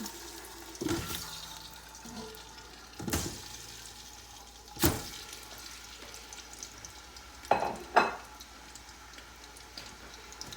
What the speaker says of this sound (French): Je rajoute les morceaux de viande